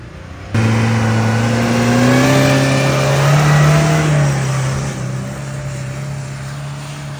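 A car engine revs hard and strains while climbing a steep hill, loud and close, its pitch rising then slowly sagging as the motor runs out of power, continuous with no talk.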